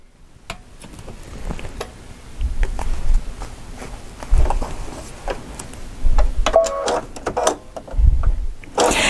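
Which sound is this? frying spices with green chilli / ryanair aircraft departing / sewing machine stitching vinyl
sewing machine stitching vinyl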